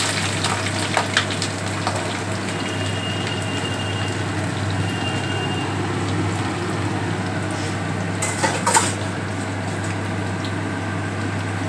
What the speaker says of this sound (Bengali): এবার একটু পেঁয়াজটা একটু লাল লাল করে ভেজে নেই।